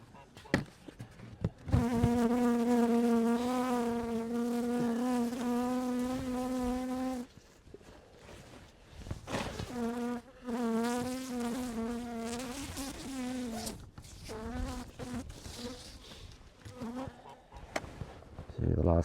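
Honeybees buzz at an open hive during spring brood box work, a close, strong droning hum that rises and cuts off in bursts as individual bees pass the microphone, with thumps and clatter of hive handling between.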